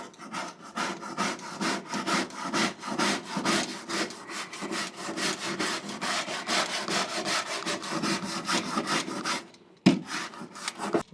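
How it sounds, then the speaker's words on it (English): Steady back-and-forth scraping of a metal tool across a BBQ grill, rhythmic rasping strokes close up and fairly loud, with a brief pause and a sharp knock near the end. "So now what we're going to do is just scrape it on down"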